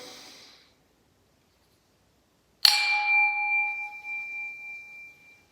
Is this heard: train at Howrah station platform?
no